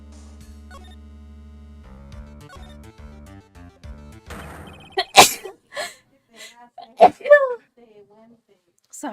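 In the Ace Attorney video game, a character sneezes sharply over soft electronic music and game sound effects. Several short, sudden bursts follow, including one more sneeze-like blast.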